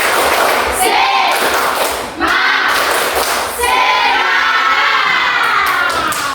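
A classroom of students does a spirit clap during an Indonesian lesson, loud massed clapping mixed with shouting and chanting voices that swell and dip in rhythmic bursts.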